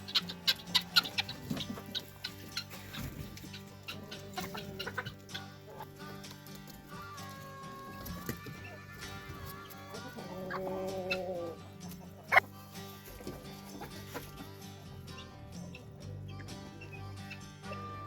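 Chickens just let out of their coop in the morning cluck and chatter steadily nearby, with soft scattered bird calls layered throughout and an occasional sharper squawk standing out.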